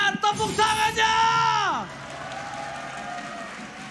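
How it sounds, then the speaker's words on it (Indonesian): An MPL Season 11 Mobile Legends esports arena crowd cheers and applauds as a voice on the PA trails off, leaving a broad, steady wash of crowd noise. "IPL Arena sekali lagi, mari kita ramaikan tepuk tangannya."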